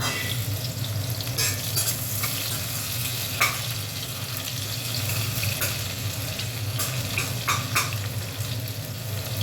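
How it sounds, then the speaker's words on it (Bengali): Chopped onions fry in a pan with cumin, giving a steady, close sizzle with soft stirring scrapes and occasional clicks throughout, and no talking. "দেখো পেঁয়াজটা ভাজা ভাজা হয়ে গেছে"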